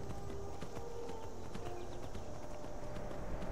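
Horse hooves gallop along a road in the video game Skyrim, a steady clip-clop rhythm of repeated thuds running the whole time over an even wash of ambient game sound.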